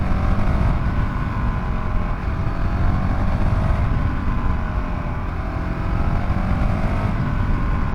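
Honda CRF450RL dirt bike with a reflashed ECU pulling a third-gear roll-on, a loud steady engine drone close to the rider that climbs gradually under continuous rushing wind.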